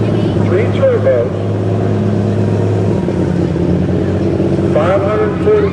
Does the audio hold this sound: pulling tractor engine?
yes